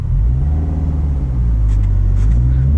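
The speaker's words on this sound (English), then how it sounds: "we can do another first gear VTEC pull" A 2004 Honda Civic Si engine pulls hard in first gear with VTEC engaged. Inside the cabin it is a loud, constant, low droning rumble with no one speaking.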